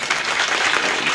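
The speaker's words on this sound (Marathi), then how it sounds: "एकदा टाळी वाजवा त्यांच्यासाठी" Audience applause erupts during a devotional kirtan gathering, a short dense burst of clapping that stays loud and even throughout.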